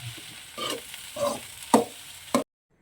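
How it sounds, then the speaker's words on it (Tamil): A spoon stirs egg rice with coriander in a hot sizzling pan, making four rhythmic scraping strokes, close and loud, before stopping abruptly. "இப்போ கொத்தமல்லி போட்டாச்சுங்க நீ போட்டு கிளறி பாப்பாக்கு எடுத்து கொடுத்தா சாப்பாடு ரெடி"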